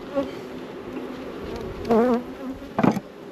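Honey bees buzzing in an open hive, a steady close drone with individual bees passing louder and higher near the microphone.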